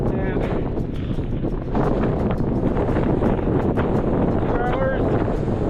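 Strong, gusting wind on an exposed hillside in the Wicklow Mountains, Ireland, buffets the microphone with a constant loud roar and rumble, with a voice talking faintly underneath.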